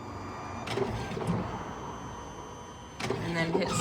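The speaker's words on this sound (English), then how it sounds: "It will automatically trigger the printers to start printing." A photo booth printer printing photo strips gives off short mechanical whirring bursts over a steady background hum, with a voice faintly present.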